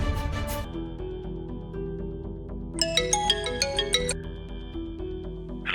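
A mobile phone ringtone for an incoming call plays steadily as a loud, bright melodic jingle of repeating tones, with a quick burst of higher chiming notes in the middle, over a sustained musical background.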